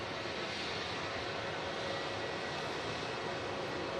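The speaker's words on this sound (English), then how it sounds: "a beautiful shot of the Aer Lingus arriving onto stand to wrap up the stream" Aer Lingus airliner taxiing onto its stand at Manchester Airport: a steady, even engine roar and whine at moderate distance, unbroken throughout with no voices.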